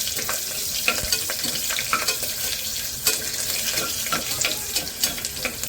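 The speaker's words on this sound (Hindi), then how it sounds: "इसके साथ ही मैं थोड़ा सा हींग और कड़ी पत्ता, साथ ही ग्रीन चिली और ये 2 रेड चिली।" Asafoetida, curry leaves, green chilies and two red chilies sizzling in hot oil in a pan, a steady close crackle and spatter with scattered louder pops throughout, no voices.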